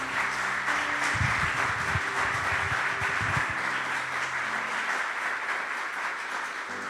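A church congregation applauds for the Lord during a Spanish-language service, a steady dense wash of clapping that holds throughout, with a low hum and some rumbling underneath.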